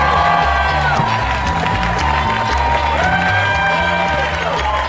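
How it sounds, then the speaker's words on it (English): A comedy club audience at Gotham Comedy Club claps and cheers loudly and steadily as a comedian is welcomed, a dense wash of applause and whoops, with music and voices mixed in. "thank you so much for clapping and yelling because this next comedian deserves it"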